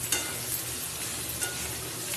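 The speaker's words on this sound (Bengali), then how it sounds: "তুলে সয়াবিনের মধ্যে দিয়ে ভালো করে কষিয়ে নেব।" Soybeans and curry leaves are stir-fried in a pan, giving a short stretch of close, steady sizzling with light stirring.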